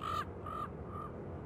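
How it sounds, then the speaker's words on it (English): A bird caws three times in Jurassic Park: Trespasser, each call shorter and fainter than the last, harsh and fairly close over a quiet game background. "I think that bird is laughing at me."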